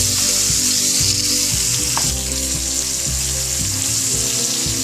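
Onions frying in a pan for stuffed eggplant (bharva baingan), a steady loud sizzle running throughout with low clatter as they are flipped around the sides, no voices.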